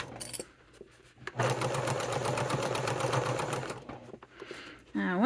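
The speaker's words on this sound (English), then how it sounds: "I'm going to start sewing on this dot, back stitch, and sew right here." A sewing machine stitches through a thick wallet, its rapid mechanical whirr running steadily for about two and a half seconds between quiet pauses, with faint handling clicks before and after.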